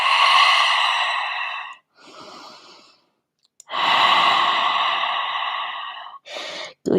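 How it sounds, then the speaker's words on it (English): Slow, deep breathing during a vinyasa yoga pose, a long airy exhale, a softer inhale, then another long exhale close to the microphone, with brief pauses between. "And breathe."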